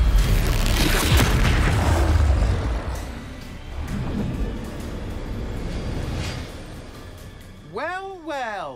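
A Bombarda spell detonates in Hogwarts Legacy with a deep, loud boom that rumbles and fades over a few seconds, followed by further lower blasts and a rising whooshing sweep at the end, with a voice calling out over it.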